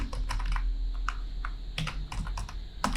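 Computer keyboard typing a terminal command, a quick run of close, crisp key clicks in uneven bursts with no voices.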